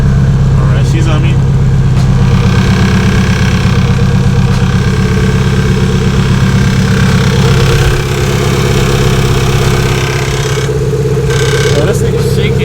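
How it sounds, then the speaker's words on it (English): Turbocharged H23A engine idling in a 6th-generation Honda Accord on its first start, a loud steady low rumble with a slightly uneven shake, close up, with someone talking over it. "right now I'm letting the car warm up. It's idling pretty good."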